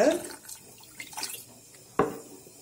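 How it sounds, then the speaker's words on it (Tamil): Faint splashing and trickling as half a cup of water is poured into a saucepan to melt jaggery for sweet pongal, then a sharp metallic clank of the pan about two seconds in, in a quiet room. "இதுல வந்து ஒரு அரை கப் தண்ணி விட்டுடலாம்"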